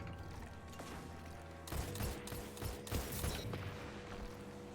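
Rocket fire and explosion in a shooter video game, a steady mechanical hum that breaks into a burst of sharp crackling blasts and rumbling impacts before settling back, moderately loud with no talk.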